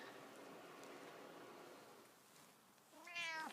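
A rescue cat lets out a single close, clear meow near the end, after a stretch of low background hiss from a rescue shelter.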